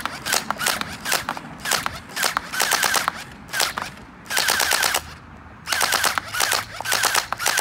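An Amazon gel blaster fires gel BBs in bursts of rapid mechanical clicks and snaps, loud and close, separated by short pauses.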